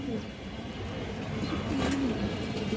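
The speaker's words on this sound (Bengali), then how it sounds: "একটা খড়গলা মাদি কবুতর আছে" A Khorgola female pigeon gives a soft, low coo that rises and falls once near the middle, faint against a steady background hum.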